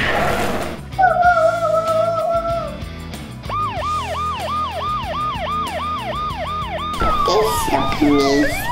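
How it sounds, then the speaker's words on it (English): Loud police car sirens wail close by as it moves through traffic, first a steady tone, then a rapid repeating whoop, with traffic rumbling underneath. "they're going through the traffic with the sirens"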